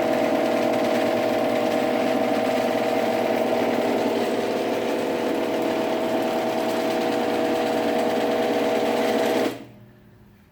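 A GX9000 machine running on the full rail, a steady close whirring drone with a constant mechanical tone that holds evenly, then cuts off abruptly near the end.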